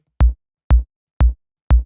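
Four punchy electronic kick drum hits from a good kick sample, in a steady even pulse about half a second apart with silence between, each a deep thump with a short click on top, played alone.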